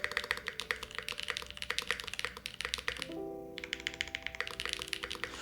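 Keys clack rapidly on a Space80 mechanical keyboard build, with dense close-up typing clicks in steady bursts; a sustained tonal hum sits underneath partway through.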